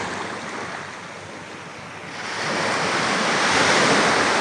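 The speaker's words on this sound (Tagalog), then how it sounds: "Dagat." Ocean surf rolls onto the beach at Puerto Galera in a steady broadband wash that swells louder midway, with wind noise on the microphone and no voices.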